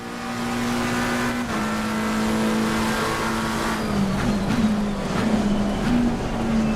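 Engine of a McLaren race car at Suzuka in Assetto Corsa Competizione, a steady high-revving drone with pitch shifts and wavering near the end as it brakes and accelerates, loud and continuous without talk.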